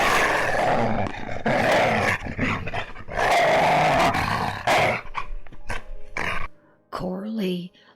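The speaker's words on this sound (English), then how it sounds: "and Jacob heard a blood-curdling growl" A deep, menacing growl from an unseen creature rises out of a dark tunnel, rumbling loud and close after a stretch of dramatic narration.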